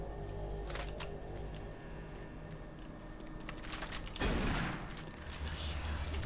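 A shotgun blast in Doom 3 BFG Edition on Nightmare difficulty, heard once as a loud, sudden burst about two-thirds through, over steady game background noise.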